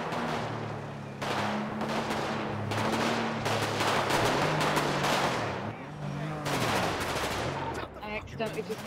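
Gunfire in GTA during a massacre at Merryweather Docks, rapid automatic bursts and repeated shots going on almost continuously for nearly nine seconds, with voices talking under and between the shooting.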